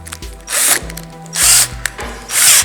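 A hand torque wrench ratchets in three bursts of rapid clicking, close by, with short pauses between strokes, during work on an oil pump of a Ford 2.2 TDCi engine.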